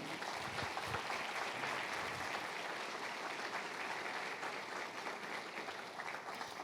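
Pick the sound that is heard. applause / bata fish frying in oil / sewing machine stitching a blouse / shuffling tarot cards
applause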